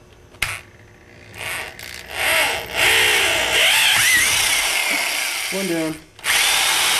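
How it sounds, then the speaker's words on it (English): A power drill whines in several short bursts, drilling through pilot holes for valve stems on a boost leak tester, pausing between holes, with a brief spoken remark among the drilling. "And these you just drill all the way through with the holes you created as pilots."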